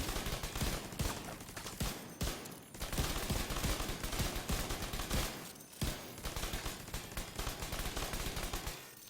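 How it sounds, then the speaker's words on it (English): An assault turret in The Division 2 firing continuously in long, dense bursts of rapid gunfire, loud and close, with only brief pauses. "Now let's pop out the turret. Let's start some damage."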